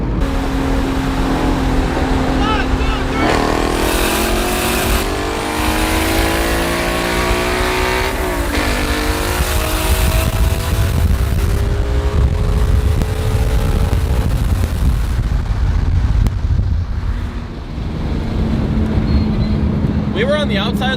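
A full bolt-on E85 Mustang with tall gearing races a wrapped Supra side by side. The engines roar loudly and continuously with rising rev sweeps and gear changes, and people talk excitedly over the noise.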